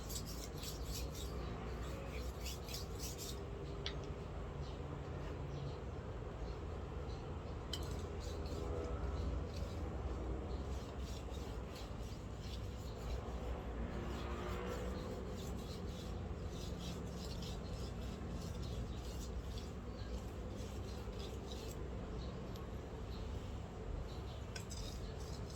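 A Japanese kitchen knife is sharpened to a fine edge, giving quiet, steady rasping strokes of steel on stone that repeat in an uneven rhythm, close by and soft, with occasional light clinks.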